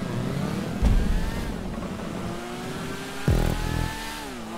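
A motorcycle engine in GTA V revs continuously on a mega ramp, its droning pitch rising and shifting through gears, loud and alone with two short thuds along the way.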